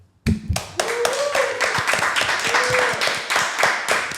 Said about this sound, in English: You can clap for yourself too.